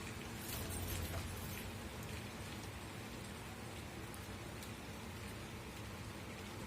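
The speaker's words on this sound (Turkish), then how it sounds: "Şimdi yağmura çevirdi tekrar." Rain mixed with sleet pours steadily in Bakırköy, Istanbul, in a soft, dense patter on surfaces, a continuous hiss with occasional distinct drops, fairly quiet and with no talking.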